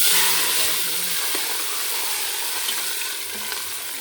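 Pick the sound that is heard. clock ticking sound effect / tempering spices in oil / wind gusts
tempering spices in oil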